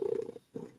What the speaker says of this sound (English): I'm enjoying the purrs right now